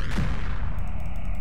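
Gunfire from a weapon in the game Juice World: dense, continuous low booming crackle through the whole stretch, with a brief brighter burst near the start.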